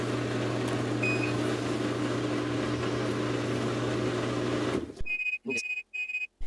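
A Whirlpool Cabrio washing machine in diagnostic mode hums steadily for several seconds as it runs through its tests, then a series of short electronic beeps chirp in quick succession, with pauses between them.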